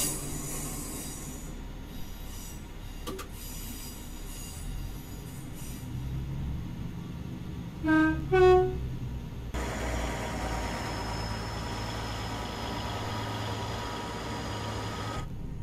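Tram wheels squealing in Train Simulator 2020 on the Huddersfield to Manchester Victoria route: a high metallic squeal with a sharp, loud burst of tones near the middle over steady rail rumble, fading into a sustained thinner whine.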